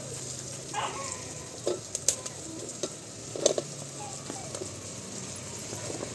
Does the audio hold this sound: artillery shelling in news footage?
no